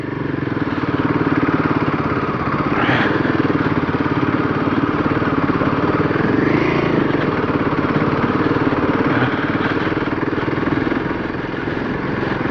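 A Royal Enfield Himalayan motorcycle rides along a rough jungle road in the hills, its engine a loud, steady drone with slight rises in pitch and heavy wind rush.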